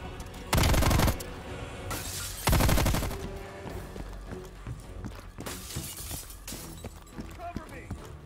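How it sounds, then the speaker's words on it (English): Gunfire from the video game Call of Duty Black Ops Cold War, with two loud bursts of rapid automatic fire followed by scattered shots and clatter, while voices talk over the action. "Did I just get shot behind Woods?"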